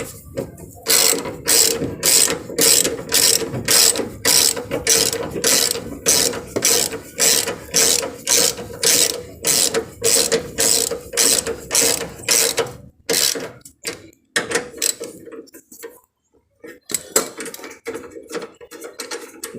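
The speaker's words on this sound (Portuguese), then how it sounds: "Usar a catraquinha só para chegar os parafusos até na peça aqui" A ratchet wrench runs bolts down on the suspension of a Chevrolet Celta: rapid, loud, evenly spaced ratcheting strokes repeat for about thirteen seconds, then slow into a few scattered clicks and taps, close up and with no talking.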